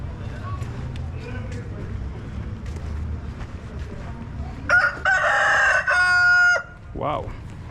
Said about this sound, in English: a cock there is crowing.